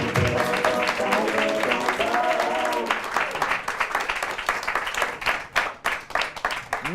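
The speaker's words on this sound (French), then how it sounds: "Je vous demande d'applaudir Monsieur Bruno Banon." Theatre audience applause for a comedy performer's entrance, steady dense clapping that holds for several seconds, with a voice speaking early on and the applause thinning into scattered claps toward the end.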